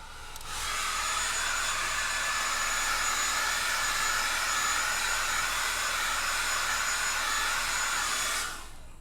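A hair dryer blows steadily on a latex bald cap layer, switching on abruptly and holding a loud, even whoosh with a faint whine for about eight seconds before cutting off.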